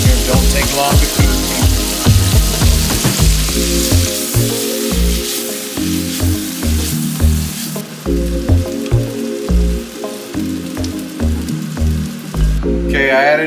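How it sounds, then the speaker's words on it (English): Chicken frying in a mix of bacon grease and cooking oil gives a loud, steady sizzle and crackle with rapid popping pulses that continue close up for the whole stretch. "We're gonna fry up the chicken now"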